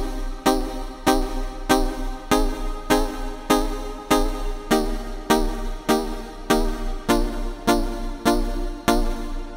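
A synth plays a short staccato reggaeton melody over a thumping regular beat, with plucky notes bouncing in a tight, evenly repeating pattern, loud and up front with no voices.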